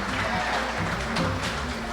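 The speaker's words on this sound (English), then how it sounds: "Give them a round of applause. Give them a round." An audience applauds a band with a dense, steady wash of clapping, fairly loud and continuous.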